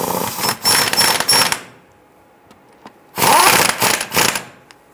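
Bolts on a 1994-2004 Ford Mustang transmission mount are snugged down with a ratchet or power tool, heard as two loud bursts of rapid mechanical whirring and clicking separated by a quiet pause.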